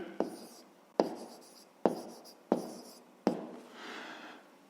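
A pen writes out a fifth-grade math solution by hand on paper, close and quiet: five sharp taps as the pen meets the page, each followed by a soft scratching trail, with a longer scratchy stroke to finish.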